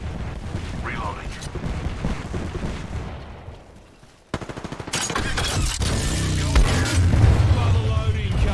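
Heavy automatic gunfire in the battle royale game Apex Legends, a long dense burst that fades, then resumes after a sharp blast with rapid loud shots and explosions, game voice callouts mixed in.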